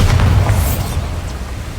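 A Bombarda spell goes off in Hogwarts Legacy as a loud, deep boom that rumbles on as a sustained blast with no voice over it.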